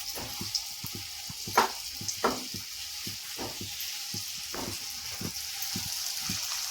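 Cabbage manchurian balls dropped one by one into hot oil for deep frying, with a steady sizzle and a few sharp spattering bursts as each ball goes in, close by with no talk.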